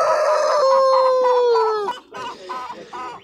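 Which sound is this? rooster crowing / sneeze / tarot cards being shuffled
rooster crowing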